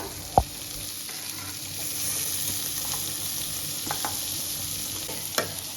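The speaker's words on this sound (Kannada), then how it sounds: "ಇವನ್ನ ಸ್ವಲ್ಪ ಅರ್ಧಂಬರ್ಧ ಹುರಿದು ತಕ್ಕೊಳ್ಳೋಣ. ಈಗ ಇದು 1 2 ಮಿನಿಟ್ಸ್ ಫ್ರೈ ಆಗೈತೆ ನೋಡ್ರಿ." Broccoli, carrot and capsicum frying in a pan for white sauce pasta, a soft continuous sizzle with an occasional sharp knock and a few light stirring scrapes, close and steady with no one talking.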